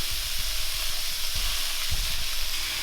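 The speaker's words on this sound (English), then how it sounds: "It says to break it up and cook it for about 5 minutes or until it's nicely browned" Ground meat for a Curtis Stone Mexican meat mix sizzling loudly as it browns in a pan, a steady hiss with scattered pops and stirring scrapes close by.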